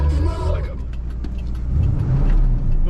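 A red 1978 Chevrolet Camaro with a four-speed manual gearbox pulls away with a steady low engine rumble that swells slightly as it accelerates, heard from inside the car.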